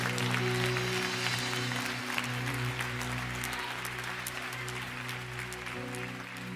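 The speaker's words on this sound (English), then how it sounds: "Stand to your feet and give Jesus a great big hand clap." A church congregation applauds in a dense, continuous wash of hand clapping, loud and sustained throughout over a steady low hum, with no clear talk.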